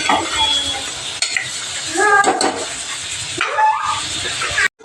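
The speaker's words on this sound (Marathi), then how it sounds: "अख्खी मसूर थोडीशी वाटाणा छान असं भाजून घेणार आहे" Whole masoor lentils and peas are dry-roasted in a pan, with repeated scraping stirs and a light crackling sizzle, broken by a few short whine-like sounds.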